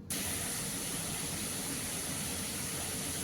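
Cabbage frying slowly in a pan on low heat, a close, even, continuous hiss of oil with no breaks or voices.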